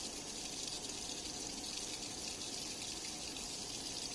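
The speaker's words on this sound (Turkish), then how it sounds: "O yüzden hemen şimdi artık erlenimdeki kristalleri almak için buraya döküyorum." Crystal solution poured from an Erlenmeyer flask into a filter in a lab, a steady close trickling rush of liquid with no talk.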